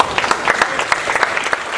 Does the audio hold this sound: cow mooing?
no